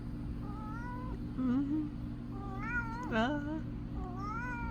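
A house cat meows repeatedly up close, giving several rising and falling drawn-out cries with short pauses between them, while a person murmurs softly once.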